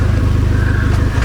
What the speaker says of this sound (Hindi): एक बार कार रेव करके देखते हैं how does it sound